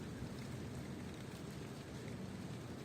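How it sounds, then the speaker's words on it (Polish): Steady rain falling outdoors, a dense, even wash of patter with no breaks across the whole stretch, fairly faint and without any voices. "Deszcz pada"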